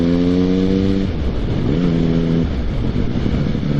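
A motorcycle engine drops through a couple of lower gears as it slows on a road, the pitch stepping down and then rising and falling with each shift, loud and close under steady wind noise.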